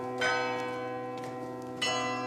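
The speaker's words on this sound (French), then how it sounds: "un carillon à coups de poing" Cathedral carillon bells struck with the fist ring close and clear, with two or three strikes whose rich, sustained tones overlap and decay into a continuous ringing.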